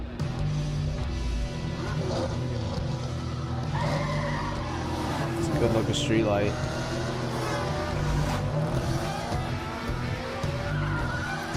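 Cars skid and squeal their tires in a racing game trailer featuring a Lamborghini and a Porsche, with roaring engines and sweeping squeals over game audio while someone talks over it.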